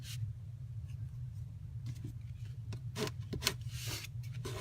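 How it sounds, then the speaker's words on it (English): Quiet rubbing and scraping of a tool burnishing down a thin-cut paper layer on a favor box, short soft strokes over a low steady hum. "I'm just going to burnish it a little bit to make sure it's good and stuck down."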